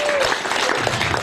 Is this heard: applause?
yes